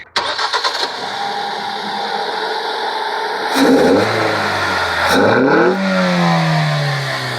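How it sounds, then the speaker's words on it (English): A car engine cranks, catches and settles into a rough idle, then is revved hard twice, the pitch rising and falling with each push; loud and close. "help me quickly to rev the car"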